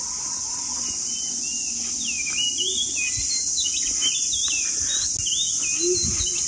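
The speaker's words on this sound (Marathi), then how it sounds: "पक्ष्यांचं किर." Several small birds chirp and twitter against a constant high insect drone in the early morning in a Konkan village. The calls are varied and moderately close, and no voices are heard.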